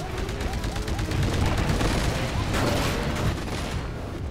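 Loud bursts of gunfire and explosions in the video game Titanfall, Attrition mode, crackle in rapid succession, with a heavy boom around the middle, dense and chaotic.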